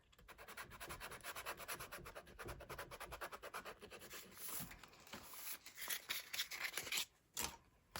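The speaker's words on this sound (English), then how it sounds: "So let me take this and sand that word off." Sandpaper rubbed briskly across a Dollar Tree journal card to sand off a printed word, a close, steady run of rhythmic scratchy strokes that pauses briefly near the end.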